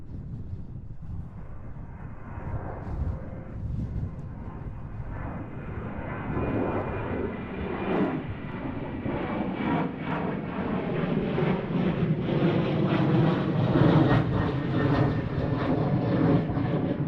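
A jet airliner takes off in gusty wind at Schiphol Airport in Amsterdam, its engine roar swelling steadily from a distant rumble into a loud, broad, sustained blast that carries wind buffeting through it.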